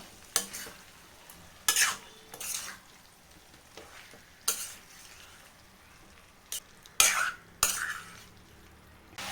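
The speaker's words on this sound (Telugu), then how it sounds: "ఇప్పుడు మనం ముందుగా ఉడికించుకున్న చికెన్ ముక్కలను అయితే వేసేస్తున్నా. ఇప్పుడు వీటిని ఒకసారి బాగా మిక్స్ చేసుకుందాం." Pre-cooked chicken pieces are stirred in hot oil in a pan, with a soft steady sizzle under several sharp scraping strokes of a spoon against the metal, spaced irregularly.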